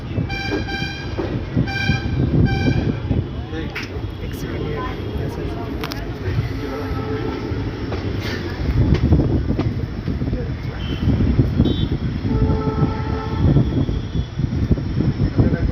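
Passenger train running on a rail journey toward Bareilly Junction, a steady rumbling roar with occasional horn-like toots, heard from on board with people talking throughout.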